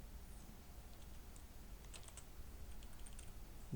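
AngularJS code is typed on a computer keyboard, producing faint, quick clusters of light keystrokes over a low, steady background hum, with no talking.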